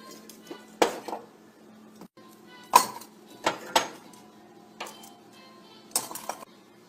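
A metal cooking pot with a steel strainer set over hot coals clatters and clinks as it is handled, several sharp metallic knocks spaced irregularly, close and fairly loud with no talking.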